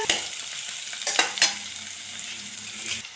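Onions and ginger crackle in a pan for a saag tadka, giving a constant near sizzle with a few bright clinks and bursts of stirring.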